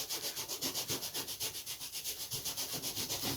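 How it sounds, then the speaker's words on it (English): Close, steady rhythmic rubbing of a sanding block across a wooden part of a pre-WW1 style RC model aircraft, even back-and-forth strokes at a brisk pace, fairly quiet with no talk. "So I'm just going to sand it around"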